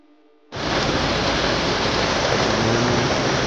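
Steady heavy rain roars in abruptly after a short quiet lead-in, a dense, loud, continuous wash of noise that holds without easing.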